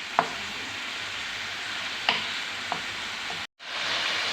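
Chicken sizzles in a karahi with a steady, close frying hiss, broken by a few sharp clacks of the spoon stirring it and a brief dropout near the end.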